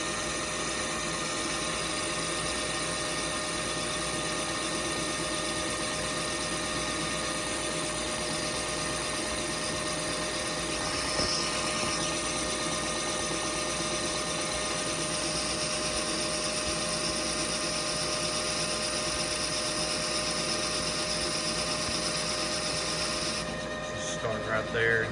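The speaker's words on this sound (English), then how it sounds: "Oh yeah, that's machining real nice." A machine tool cutting a Lovejoy coupler for a vacuum pump with a carbide tool, a steady loud whine and hum that runs continuously throughout.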